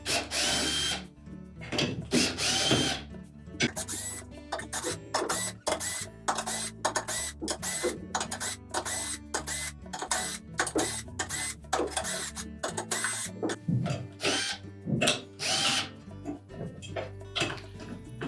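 A power driver backs out long screws on a Whirlpool washer during a bearing replacement, its motor whirring in short repeated bursts close by, with pauses and small clicks between each spin.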